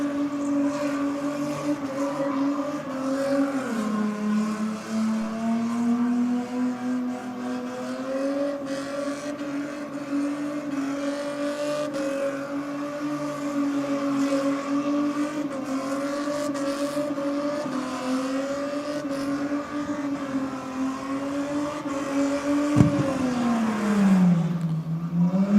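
A drag race car does a burnout on the burnout pad at a no-prep drag racing event in Australia. The engine holds a loud, sustained high-rev wail, with the pitch dipping and climbing again twice.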